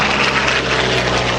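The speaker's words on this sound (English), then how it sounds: "Listen to the sound of that, because we'll hear another V12 engine in Jim Beasley's P-51 Mustang a little bit later on." A V12-powered aircraft at an air show makes a loud, steady droning engine roar with a deep rumbling growl, continuous and close for the whole brief moment.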